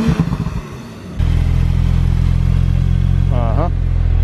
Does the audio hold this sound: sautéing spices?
no